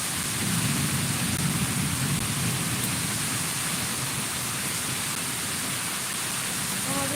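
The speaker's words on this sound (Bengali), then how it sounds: "এত ঝড় বৃষ্টি হচ্ছে" Heavy storm rain pours steadily and loudly throughout, a dense continuous roar of water with low rumbling underneath, like a downpour during a power-cut thunderstorm.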